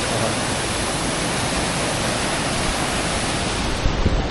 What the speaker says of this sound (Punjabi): ਦੇਖੋ ਉਹ ਉੱਪਰੋਂ ਗਿਰ ਰਿਹਾ ਪਾਣੀ